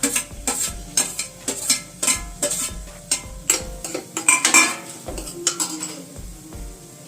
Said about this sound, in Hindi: और ये प्याज को भून लेते हैं हम।